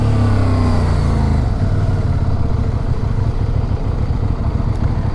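A 2023 CFMOTO Ibex 800 T adventure motorcycle on a demo road ride, its engine note falling as it slows, then a steady loud rumble with wind rush close to the rider.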